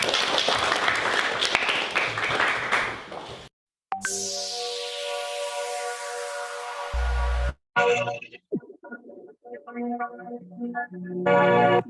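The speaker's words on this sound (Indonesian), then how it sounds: "Beri tepuk tangan buat Nina." A group of participants applauds Nina during an online teacher training session; a short burst of clapping opens, followed by abrupt cuts, a tonal electronic sound and scattered noises and voices.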